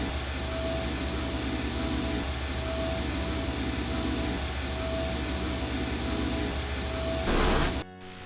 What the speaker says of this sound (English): These poor creatures' brains are feeding electricity to the engines.